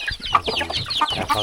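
A flock of chickens clucks continuously, close by, with overlapping rapid clucks and squawks filling the scene at an evening rice field.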